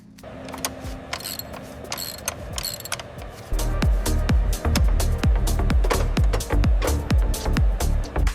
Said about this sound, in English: time to torque this final adjustment